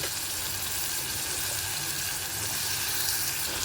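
Potato pieces fry in hot oil with turmeric, a steady broadband sizzle that holds evenly throughout, fairly close and moderately loud, with no talking over it.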